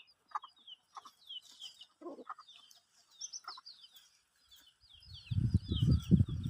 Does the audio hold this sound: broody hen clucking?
yes